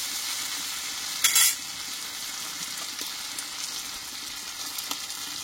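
Potatoes fry in a pan for a fish-oil curry, giving a steady close hiss of sizzling oil with one sharp metallic clink of a utensil early on and a few light stirring taps.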